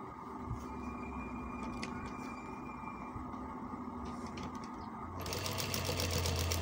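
A sewing machine stitches a kameez, a steady close mechanical whirr running throughout and growing a little louder and denser toward the end.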